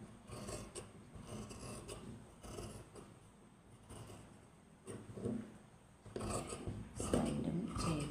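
Scissors cutting a fabric armhole during a home tailoring lesson, soft close snipping and rasping fabric sounds in irregular bursts, growing slightly louder toward the end.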